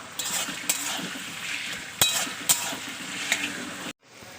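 Beans fry in oil in a wok for fried rice, a steady close sizzle broken by a few sharp clinks of a metal spatula against the pan before it cuts off abruptly.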